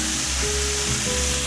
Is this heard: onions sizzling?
yes